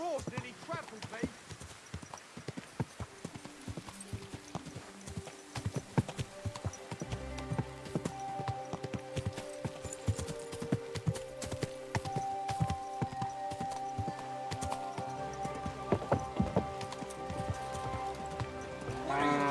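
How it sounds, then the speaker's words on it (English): Horse hooves clip-clop in a steady walking rhythm over music and other game sounds in Kingdom Come: Deliverance II, with a voice speaking briefly partway through. "Your horse nearly trampled me!"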